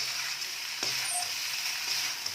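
Prawn egg fried rice stir-fried in a pan gives off a steady close sizzle with light scraping and stirring knocks, continuous and moderately loud with no voices.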